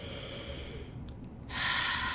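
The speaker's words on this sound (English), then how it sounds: "I invite you to take a breath" A person slowly takes a breath in a quiet room, a soft airy inhale building and then swelling into a fuller, louder breath near the end, close and alone with no talk.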